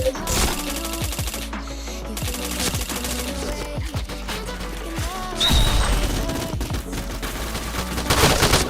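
Rapid gunfire crackles through a video game shooter match in dense bursts and single shots, near and loud, with metallic clatters and effect sounds layered between the shots.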